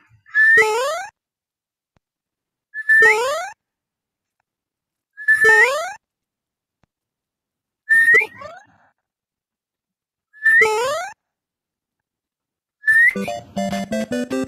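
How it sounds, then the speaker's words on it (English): Six whistled bursts, each a sharp rising glide a few seconds apart, used as voice control to make the dinosaur jump in the Chrome Dino game running on a PIC32 microcontroller; the last burst turns into a warbling tune. "where we can whistle to jump."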